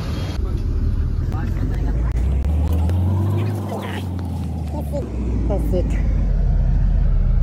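A bus bound for Beed idles with a steady low engine rumble throughout, close by, with background chatter and traffic noise mixed in.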